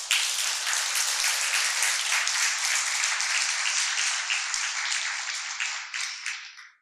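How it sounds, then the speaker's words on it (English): Audience applause for nine honored teachers at a ceremony, a dense, steady wash of clapping that holds evenly loud throughout and then tapers off at the very end. "So let's give them another round of applause."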